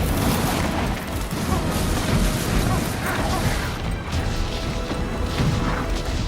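Blackpowder muskets fire in a ragged volley during a Hougoumont siege reenactment, a dense, continuous crackle of overlapping shots and booms filling the scene, with shouting voices mixed in.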